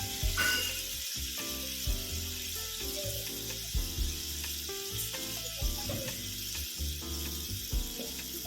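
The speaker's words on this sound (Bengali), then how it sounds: "মশলাটা একটু নাড়াচাড়া করতে হবে।" Masala fries in a pan for a Bengali malai pabda fish dish, giving a loud, steady sizzle with scraping stirs and small clatters of the spoon throughout.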